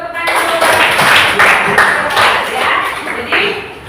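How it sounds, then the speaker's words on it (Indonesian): A classroom of children clapping their hands together in a lively, fairly loud burst of overlapping claps lasting several seconds, with voices mixed in underneath. "kita coba tepuk tangan dulu"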